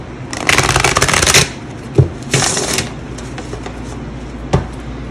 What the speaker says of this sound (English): I just want to shuffle it.